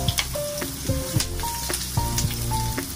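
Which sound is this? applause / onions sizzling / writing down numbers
onions sizzling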